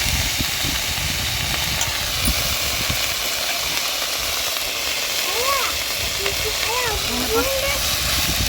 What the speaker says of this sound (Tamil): கருவேப்பிலை நல்லா ஒரு பிடி அளவு இருக்கும், எடுத்து வச்சுருக்கேன். அதையும் போட்டு நல்லா வறுத்து எடுத்துக்குவோம்.